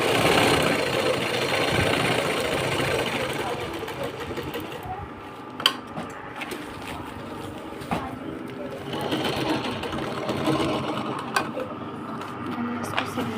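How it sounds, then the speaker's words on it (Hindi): A sewing machine runs steadily while stitching a large handbag, its continuous mechanical whirr holding throughout with a few sharp clicks as the fabric is handled. "हमने इसको सिल लिया है।"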